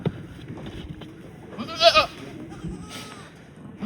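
A Barbari goat lets out one loud bleat midway through, with a fainter bleat after it, over low background noise and some indistinct voices.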